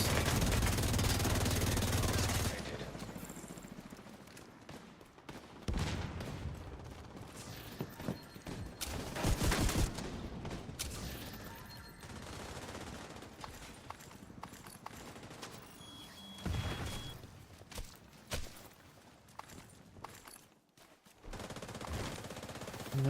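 Gunfire in The Division 2 video game, with scattered shots and short bursts mixed with game noise, fairly quiet and uneven throughout.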